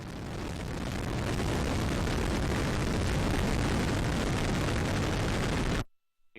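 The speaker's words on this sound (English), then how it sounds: "We have RD-180 ignition, and we have liftoff of the United Launch Alliance Atlas V rocket" A United Launch Alliance Atlas V rocket with an RD-180 engine lifts off on the NROL-55 mission. A massive continuous roar holds steady at full strength, then cuts off abruptly.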